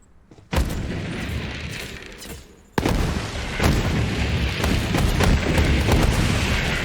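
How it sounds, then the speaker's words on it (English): MRV grenades in the shooter game Borderlands 3 detonate in loud booming blasts, one after another, each spawning further explosions that stack into a sustained rumbling barrage with sharp cracks. "MRV grenades spawn even more MRV grenades after they explode"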